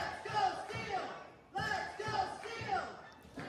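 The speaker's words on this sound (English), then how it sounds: "Crowd getting into it." A wrestling event crowd gets hyped, loud cheering and bellowing from many voices in two surging waves with a brief dip between them, fairly close and energetic.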